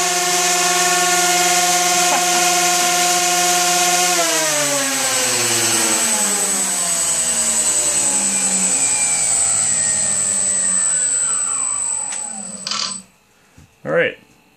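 GimbalBot drone motors roar during a thrust test with a loud, sustained tonal whine that shifts in pitch as speed changes, then spool down and cut out with a few brief bursts at the end.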